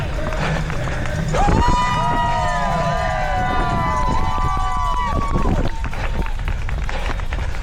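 Spectators at a 5k road race cheer loudly and continuously, with whistles and a siren-like horn tone rising over the noise, while running footsteps and breathing carry close underneath.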